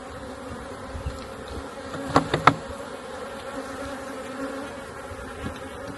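Honey bees buzzing around an opened hive during queen rearing, a soft steady hum with a few louder, close passes of single bees darting near.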